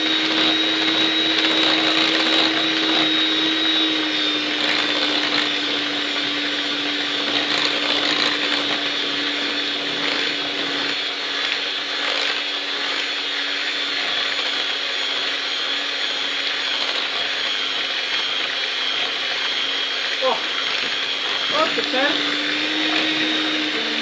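An electric churn whips sour goat milk into butter with a loud, steady motor whir that runs without a break, its pitch shifting slightly near the end.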